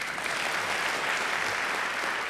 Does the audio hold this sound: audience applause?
yes